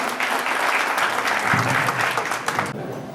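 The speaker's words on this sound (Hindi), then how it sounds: "जोरदार तालियों से अभिनंदन करें।" Audience applause at a Lions Club installation ceremony in Sujangarh, a dense, steady burst of clapping from a sizable crowd lasting about three seconds, loud and close with no talking over it.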